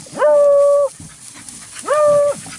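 A hunting dog on a rabbit hunt gives two loud, drawn-out baying calls close by, each held for about half a second and separated by a short pause.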